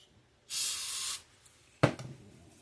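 All-purpose cleaner sprayed onto a hot rod engine head during valve work: one long, loud hissing burst from a spray bottle, then a short clatter and rustle nearby.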